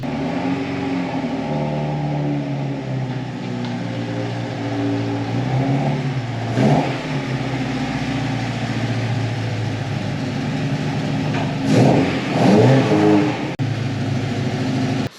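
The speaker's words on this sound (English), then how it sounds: "Just a couple of pumps of the throttle and fire straight up." Mk1 VW Caddy engine on twin Weber 45 carburettors idles loudly and steadily nearby, with a few short throttle blips rising and falling, the strongest near the end, and no talking.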